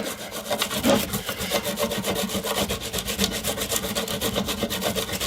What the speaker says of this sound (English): I can just wipe this up a bit